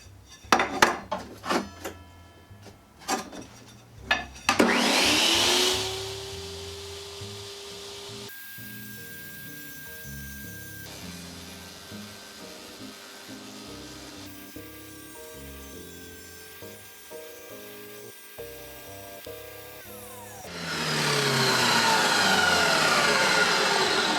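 An IQ Cyclone dustless waterless tabletop tile saw making a freehand miter cut in ceramic tile: clattering handling first, then the blade whines up loudly, grinds through the tile in a long steady tone, and spins down near the end.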